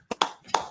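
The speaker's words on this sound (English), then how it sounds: "When she's really happy, she also claps." Three sharp hand claps ring out close and crisp in quick succession, the second and third clearly louder than the first.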